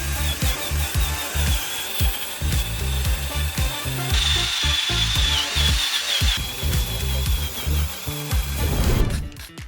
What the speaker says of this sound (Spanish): Para sacar el hollín estas son las herramientas. Un cepillo de metal y la típica escobilla de metal.